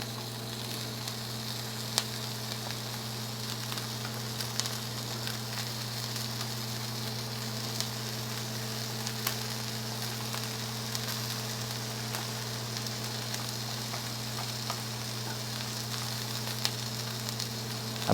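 Mushrooms frying in a pan give a quiet, even sizzle that runs unbroken over a low steady hum, with a few faint clicks scattered through.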